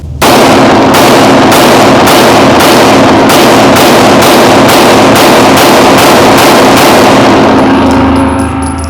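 Handgun shots ring out at very high volume in a fast, evenly spaced string of about a dozen sharp cracks, with no talk.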